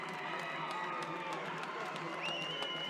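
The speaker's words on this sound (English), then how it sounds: "Well, this pro-Fijian crowd, they light up." A pro-Fijian crowd at a RugbyTown Sevens cup final roars with sustained cheering and applause, dense and loud throughout, with scattered claps and shouts and a whistle-like tone rising near the end.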